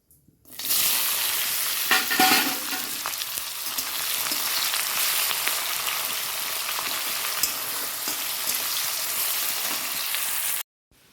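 Chopped green chillies and onion hit hot oil with cumin seeds and erupt into a loud, steady sizzle that holds for about ten seconds, with a few stirring scrapes early on.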